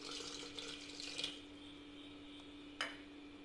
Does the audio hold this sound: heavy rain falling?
no